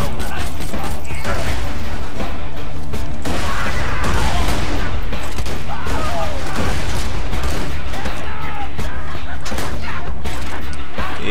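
Gunfire in Borderlands 2 rattles in dense, continuous bursts with mechanical clatter throughout, loud and busy from start to finish.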